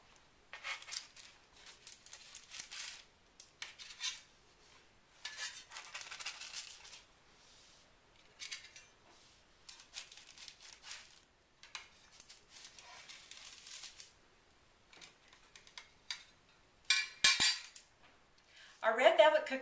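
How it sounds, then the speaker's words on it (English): Freshly baked red velvet cookies lifted off a metal baking sheet onto a wire cooling rack, giving a string of light metallic clinks and scrapes in short bursts, with quiet pauses between them. "now I'm going to remove them and put them on the wire rack"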